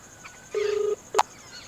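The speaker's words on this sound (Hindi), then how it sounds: "घंटी जाता है" A telephone rings on an incoming call in an Awadhi comedy sketch: one short, steady electronic tone followed by a brief, sharper chirp. It is close and clear, with no talking over it.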